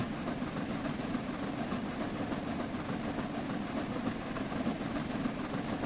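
Train rolling on rails in Train Sim World 4 on the East Coast Main Line, a dense, continuous rumbling roar with fast wheel clatter, steady and fairly loud for the whole stretch, no voices.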